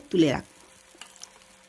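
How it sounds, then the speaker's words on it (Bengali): Eggplant pieces hit hot oil left over in the pan, giving one sharp burst of sizzling that fades quickly into a faint background crackle with a couple of small clicks. "ওই তেলটাতেই আমি বেগুন দিয়ে দিলাম"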